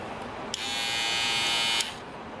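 A Wahl cordless detailer trimmer motor switches on and hums with a steady high-pitched electric buzz for over a second before cutting off. It sounds close and fairly quiet against faint background hiss.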